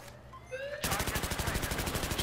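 Rapid automatic gunfire in Battlefield 3, a fast, loud, evenly spaced burst of shots kicking in abruptly after a brief quieter moment and continuing to the end.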